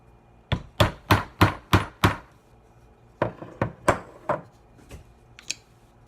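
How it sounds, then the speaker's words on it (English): Sharp hammer strikes driving a broken nail through the metal lid of a baby food jar, a quick run of six loud blows followed by a second, slightly softer series of taps, close by with no talking. "I have a broken nail and a hammer."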